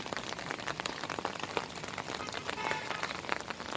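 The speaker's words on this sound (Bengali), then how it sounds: "বাইরেটা যদি দেখায় বৃষ্টি চলছে তো চলছেই" Steady rain falls outside near potted plants and rose cuttings: a dense, even patter of drops on surfaces, fairly soft and continuous, with no voices.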